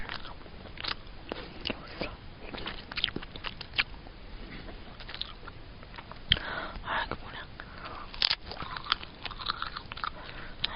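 Close, crisp crunching and chewing of brittle edible paper, with frequent small bites and soft mouth sounds throughout, fairly quiet and continuous.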